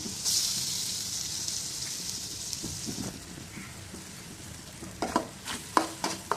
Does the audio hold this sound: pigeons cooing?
no